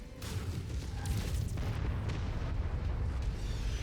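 Artillery explosions in MechWarrior 5 hit in heavy booms, with a few sharp blasts early on giving way to a continuous, loud low rumble of impacts.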